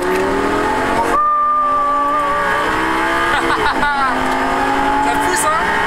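A Lamborghini Gallardo revs hard on a race track, its engine note climbing and dropping through gear changes as it brakes into a corner and accelerates out, loud and close throughout with a brief tyre squeal.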